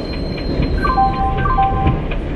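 In an Indian train simulator game, a passenger express train arrives at a platform with a loud, steady rumble and a few thin whistle-like tones floating above it.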